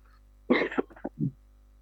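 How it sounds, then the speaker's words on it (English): A seminar presenter clears his throat and coughs in a short close burst of several rough bursts that trail off, heard alone over faint room hum. "I've got a bit of a cough"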